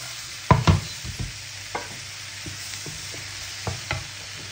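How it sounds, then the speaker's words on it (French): Mushrooms sauté in a hot pan for chicken in cream sauce, giving a soft, steady sizzle broken by a few sharp scrapes and knocks of a utensil stirring, with no talking. "Je saute un peu les champignons."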